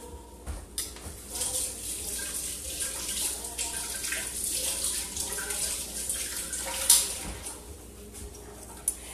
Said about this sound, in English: I'm going to rinse off my tongs